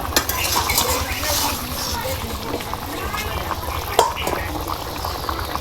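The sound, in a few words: boiling vegetable curry being stirred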